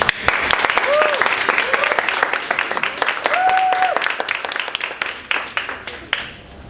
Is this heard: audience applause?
yes